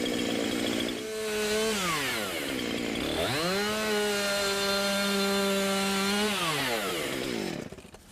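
Chainsaw cutting through a tree branch during tree trimming, a loud close engine whine that revs up, drops as the bar bites into the wood, holds a steady pitch, then winds down and cuts off.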